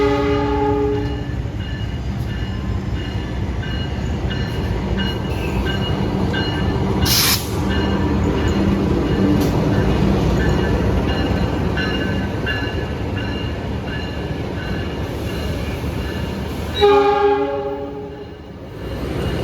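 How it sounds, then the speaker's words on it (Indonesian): Wijaya Kusuma passenger train from Cilacap pulling into Madiun station, a steady loud rumble of wheels and carriages with a brief squeal, ending in a long horn blast near the end; no talking. "Baru saja masuk di stasiun Madiun, kereta api Wijaya Kusuma dari Cilacap."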